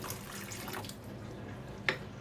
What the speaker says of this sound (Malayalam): നമുക്ക് ഇതിലേക്ക് വെള്ളം ചേർക്കാം